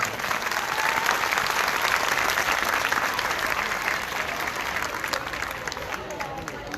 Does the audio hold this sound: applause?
yes